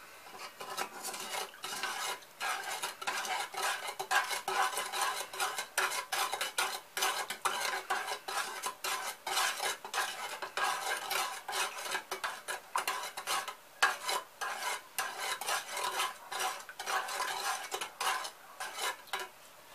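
A spoon stirring salt and sugar into a zucchini marinade in a pot, a steady run of quick scraping and clinking strokes, close and fairly loud, alone with no talk.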